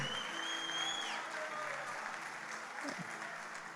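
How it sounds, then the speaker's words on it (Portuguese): Applause from a church congregation at a worship service fills the space evenly at moderate volume, with sustained tones from a voice or instrument drifting over the start and no clear speech. "Aplauda Jesus, celebre o nome do Senhor."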